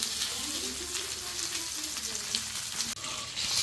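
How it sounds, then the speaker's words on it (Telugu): Moon fish frying in oil in a pan over a medium flame, a steady close sizzle and crackle that runs throughout, with a brief dip near the end. "మీడియం ఫ్లేమ్ పైన ఇలా రెండు వైపులా కాల్చుకుంటే ఫిష్ ఫ్రై రెడీ అయిపోతుందండి"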